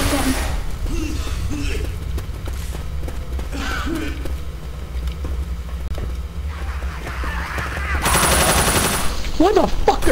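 Rapid automatic gunfire rattles through the zombie co-op shooter Left 4 Dead, with bursts of shots over game ambience and a player's voice talking at moments.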